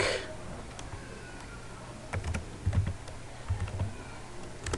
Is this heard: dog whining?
no